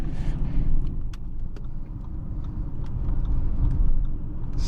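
A 2019 Audi Q8 3.0T Prestige Quattro accelerates on the road, giving a steady low engine and road rumble heard from inside the cabin. The sound swells gently toward the end, with no talking.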